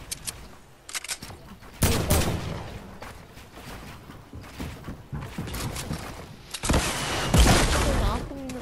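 Gunfire in the video game Fortnite, with dense bursts of shots and rapid automatic fire, loud and close, coming in waves over about eight seconds.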